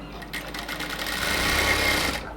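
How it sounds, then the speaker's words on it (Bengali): A sewing machine runs continuously and close, stitching around the hem of a luxury cotton dress, its steady whirring motor rising slightly and then stopping abruptly. "একটা সেলাই দিয়েই হচ্ছে এটাকে সুন্দরভাবে সেলাই করে নিচ্ছি পুরোটা ঘেরের মধ্যে"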